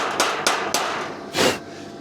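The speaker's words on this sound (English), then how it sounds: "you normally use a chipping hammer Beat the flux off." A small chipping hammer knocks slag and welding flux off a welded metal seam: three sharp, close metallic raps in quick succession, then a slightly longer scraping strike, with no talking.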